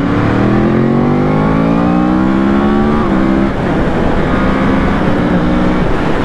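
A Yamaha R1 sport motorcycle engine revving hard under acceleration on the road, a loud close whine climbing in pitch, with a brief shift midway before it rises again.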